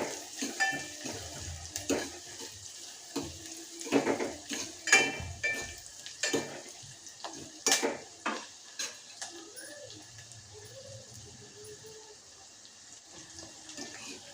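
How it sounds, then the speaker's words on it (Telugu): Onions fry in oil until they turn red, stirred with repeated scraping clatters over a soft, bubbling sizzle that fades toward the end, with no voices. "ఆనియన్ అనేది బాగా ఎర్రగా కావాలండి అప్పటి వరకు మనం బాగా వేయించుకోవాలి నూనెలో"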